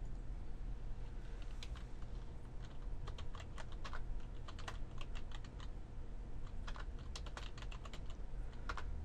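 Scattered, crisp keystrokes on a computer keyboard, entering values into fields in MS Project Server 2010, tap irregularly over a steady background hiss for several seconds.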